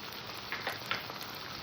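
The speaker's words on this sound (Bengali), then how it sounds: "আদা রসুনটাকে আমি হালকা কষে নেব যাতে কাঁচা গন্ধটা না থাকে" Ginger and garlic paste fries with onions in a pan for a crab curry, making a quiet, gentle sizzle dotted with a few soft crackles and pops, with no voices.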